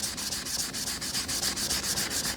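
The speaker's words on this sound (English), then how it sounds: "You can start with a more coarse sandpaper." Coarse sandpaper rubs back and forth over a vintage Telstar telephone in quick, regular strokes. The rasping is close and steady, with no voices.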